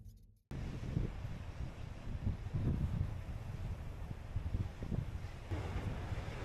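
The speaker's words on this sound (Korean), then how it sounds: "파도 찍혔어." Wind gusts and ocean surf on the Jeju coast, a steady broadband roar with rumbling low swells rising and falling throughout, after a brief quiet moment at the start; no one speaks.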